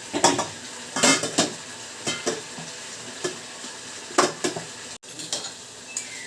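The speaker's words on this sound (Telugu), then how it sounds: "ఇక్కడ బీరకాయలు అయితే కట్ చేస్తున్నానండి." A knife cuts ridge gourds in a home kitchen: sharp, close chopping taps come in irregular bursts, with no talking.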